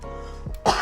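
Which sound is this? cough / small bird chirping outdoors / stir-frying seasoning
cough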